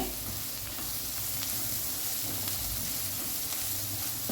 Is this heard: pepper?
yes